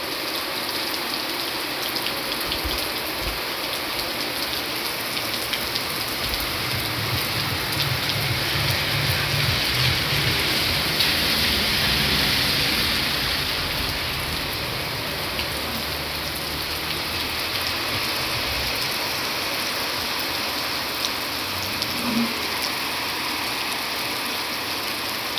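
Heavy rain pours steadily as a dense, constant hiss, falling outside a house where cattle are tied up, with no voices and only faint low rumbles beneath the downpour.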